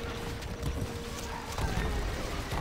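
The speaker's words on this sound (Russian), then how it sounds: "Кони." Horses trot with steady clip-clop hooves and an occasional neigh amid the noise of a video game battle, the sounds mixed in a dense continuous background without speech.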